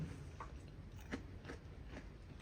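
Crunchy bites into a whole fried banana coated in sugar crystals, crisp outside and soft inside, giving three or four sharp close crunches with chewing between them, quiet and without talk.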